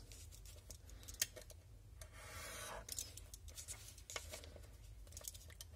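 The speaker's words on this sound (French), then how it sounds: "Avec notre cutter, on vient couper hop, au niveau des angles." A craft knife slices paper at the corners while building a scrapbooking explosion box, giving quiet scratchy cutting strokes with faint rubbing and handling noises close by.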